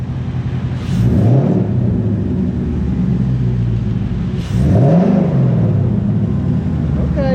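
A 2019 Ford Mustang GT fitted with an Airaid throttle body spacer and JLT catch can revs twice, each blip rising in a throaty whooshing intake rumble before settling back to a loud, steady idle.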